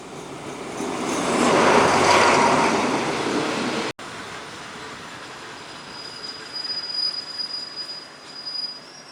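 A long passenger train rolls past up close at Ban Pho Station, Thailand, its wheels squealing loudly, then the roar fades to a steady rattle with thin high squeals trailing off.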